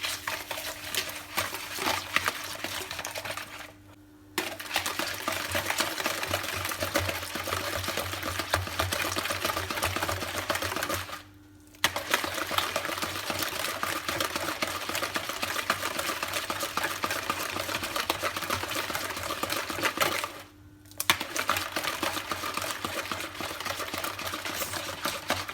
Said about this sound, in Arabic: غادي نطرب كلشي بالطراب اليدوي بحال هكا